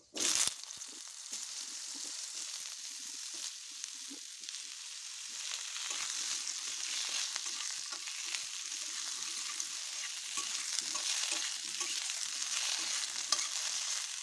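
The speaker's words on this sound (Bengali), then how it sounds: "কিছুটা তেল তুলে নিয়ে ওই তেলের মধ্যেই আমি এখন আলুগুলো ভেজে নেব তার আগে পাঁচফোড়ন আর দুটো তেজপাতা দিয়ে দিলাম এবার আমি আলুগুলো ছেড়ে দিচ্ছি" Potatoes fry in oil seasoned with panch phoron five-spice and two bay leaves, a sharp sizzle bursting in at the start and then holding as a continuous loud hiss with faint stirring throughout.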